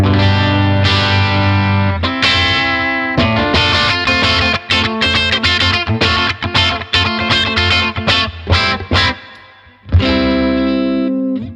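Overdriven electric guitar through a small Blackstar tube amp, warm and slightly gritty, with sustained chords broken by quick rhythmic stabs, then ringing out again, loud and close.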